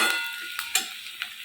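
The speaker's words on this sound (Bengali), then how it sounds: "এখন পেঁয়াজ ভাজছি" Onions frying in a pan for a tadka, with a soft steady sizzle and a few sharp stirring clicks of a utensil against the pan, close and without talk.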